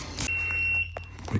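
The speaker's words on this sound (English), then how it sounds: "I'm just gonna leave it beeping for now." A warning beeper on a 1964 Ford Galaxie being rewired sounds a single sustained, steady electronic tone, close and clear, with no talking.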